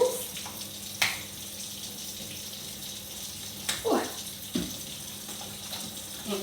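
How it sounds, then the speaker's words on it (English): Hands are washed under a running kitchen tap before baking shortbread. Water streams steadily and close, broken by a few sharper splashes and gushes as the hands move through the flow. "we're going to wash our hands"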